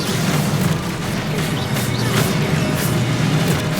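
Spell explosions cast in Hogwarts Legacy, a dense rumbling of booms and bursts over a low steady drone, loud and continuous with a few brighter crackles and no clear talk.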